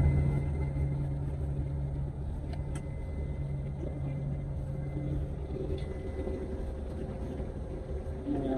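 A bus driving along a road in Tirupati gives off a continuous low engine rumble and road drone, heard from inside, steady and unbroken.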